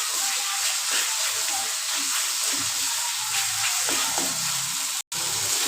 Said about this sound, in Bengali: আমি এখন এতে অ্যাড করে দেব চিকেনটা ভালো করে কষিয়ে নেব মশলার সাথে